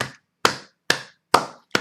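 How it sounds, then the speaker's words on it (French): A church congregation claps in a slow, spaced rhythm, five sharp hand claps about half a second apart, each one ringing briefly in the hall. No voices are heard. "Applaudissez mes frères et sœurs."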